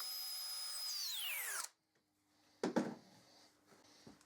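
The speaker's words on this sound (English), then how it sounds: "I use an extra long pilot bit and drill through the support and into the leg of the workbench." A power drill with an extra long pilot bit whines at high speed boring into a wooden workbench leg, then winds down as it stops, followed by a short pause and a couple of faint knocks and rustles.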